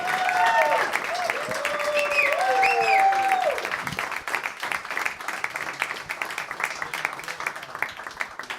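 Studio audience at a live comedy podcast taping bursts into loud, sustained applause and cheering with whoops to welcome the guests, tapering into scattered clapping after about four seconds.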